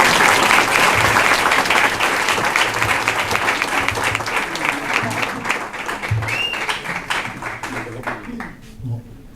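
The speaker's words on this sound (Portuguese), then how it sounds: "Uma salva de palmas." Audience applause at a public talk session, dense and loud at first, then thinning into scattered individual claps that fade out over several seconds.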